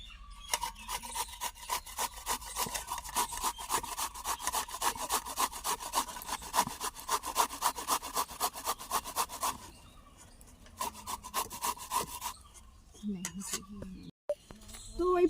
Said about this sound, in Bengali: তো প্রথমে আমি এই আমগুলোকে সুন্দর করে ঘষে নেব